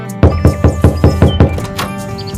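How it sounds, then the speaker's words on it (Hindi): Someone raps on a door about six or seven times in a quick, even rhythm, each knock a loud, close hollow thud, the last one trailing off. "दोबारा दरवाजा खटखटाता हूँ।"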